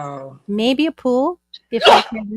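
A single loud, close sneeze bursts out right after a person's spoken words.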